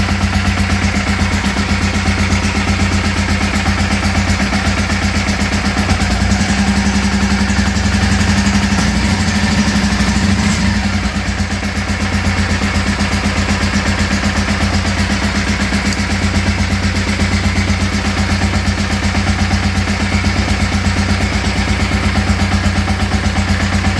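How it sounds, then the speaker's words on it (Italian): A Yamaha Virago or Dragstar motorcycle engine idling steadily and loudly, a constant low rumble that barely changes throughout. "come avete potuto vedere ho acceso la moto"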